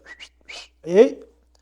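A man imitates a shepherd's whistle, giving two short rising whistles and a third, then a longer voiced call, close and clear in a quiet room.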